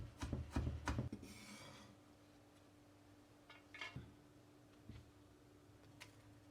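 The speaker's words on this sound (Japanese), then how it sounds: "ニンニクはみじん切りにします" A knife mincing garlic on a cutting board for sundubu jjigae, a quick cluster of close taps and chops, then sparse quieter knocks and scrapes over a low steady hum.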